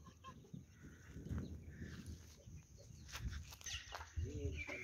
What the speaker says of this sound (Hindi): ये सील मुर्गी और मुर्ग घूम रहे हैं।